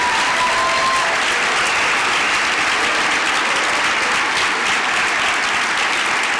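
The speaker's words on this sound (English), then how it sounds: "if we get one more big round of applause for this year's 40 Under 40" A large audience at the Forty Under 40 honors event in Central Iowa gives a loud, sustained round of applause for the honorees, a thick, continuous roar of clapping that holds unbroken for over six seconds.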